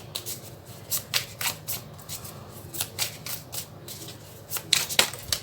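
Tarot cards are shuffled close up in a run of quick, crisp riffling bursts repeating every half second or so, with a soft background hum and no talk.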